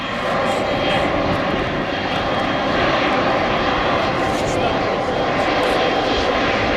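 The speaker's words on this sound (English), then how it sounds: "the Airbus A330 that's moving into position is going to take off in a moment" An Air Canada Airbus A330 moving into position for takeoff at Toronto Pearson International Airport, its engines giving a loud, steady, close roar that holds unbroken throughout.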